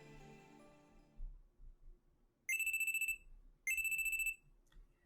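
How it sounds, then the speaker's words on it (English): A phone alarm rings in the visual novel game Steins;Gate: two loud bursts of a rapid, high, pulsing electronic ring, each about a second long with a short gap, following a faint musical passage and soft low thuds. "a loud alarm rings in my ears"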